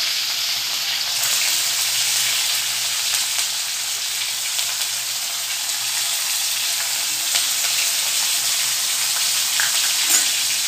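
Ten to twelve crushed garlic cloves and a few curry leaves fry in hot oil in a pan until they turn brown. A loud, continuous sizzle and crackle carries on evenly from start to finish, with no voices.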